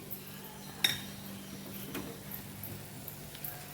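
A utensil clinks faintly against a pan or container a few times while pumpkin barfi is moved into a container, with a quiet room hum underneath.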